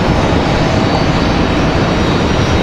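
An airliner landing at Raleigh Durham International Airport, a loud, steady, broadband engine roar with no breaks.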